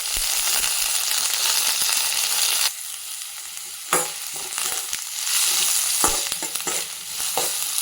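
Onions and green chillies fry in hot tempering oil with curry leaves, a loud steady sizzle broken by sharp crackles and spatters and the scrape of stirring, no voices.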